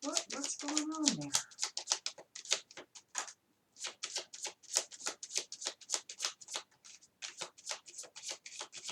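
Tarot cards are shuffled by hand in a quick run of crisp riffling snaps and flutters, close and fairly quiet, with a brief spoken phrase at the start.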